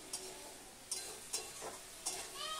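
Vegetables with turmeric sauté in a pan, giving a soft, steady sizzle broken by a few sharp stirring scrapes, quiet and close with no talking.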